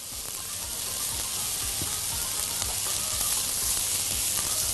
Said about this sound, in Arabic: يلا بما ان الطاسه سخنه فهنزل البصل على طول.